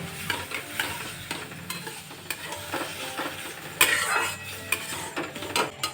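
Boiled, reduced milk being added bit by bit to semolina sweet in a hot pan on low heat: continuous stirring and spatula scraping over a soft sizzle, with a sharp hissing burst near the middle, and no talking.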